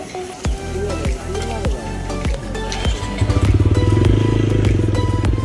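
A motorcycle rides along a road on a cold late afternoon in West Bengal, India. The engine drones close and steady, rising and falling in pitch through several shifts, with a rattling clatter and a rougher, louder drone near the end.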